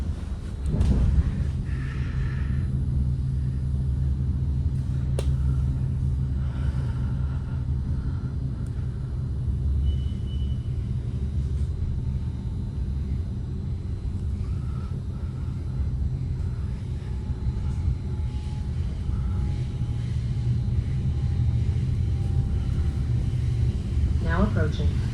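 A southbound local Caltrain commuter train rumbles steadily as it nears its last stop, a deep continuous roar heard from inside a passenger car, with a few faint squeaks and rattles over it.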